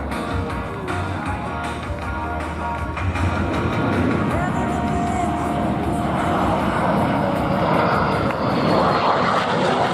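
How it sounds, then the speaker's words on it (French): Dassault Rafale Marine fighter jets of Flottille 11F pass at an air display, a broad, loud jet roar building and sustaining, with faint talk underneath. "Les marins du ciel sont fiers de vous présenter les rafales marines de la flottille 11F."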